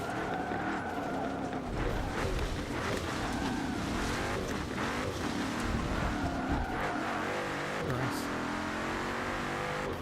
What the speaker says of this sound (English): Hopping in a Porsche 911 for no reason.